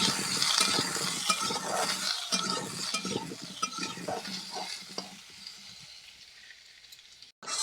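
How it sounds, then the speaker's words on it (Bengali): Potatoes frying in hot oil, cooked until golden red for an egg, potato and pointed gourd chaat, give a steady dense sizzle with occasional stirring clicks, fading slightly toward the end, with no talk. "আলুগুলো বেশ লাল লাল করে ভেজে নিয়েছি"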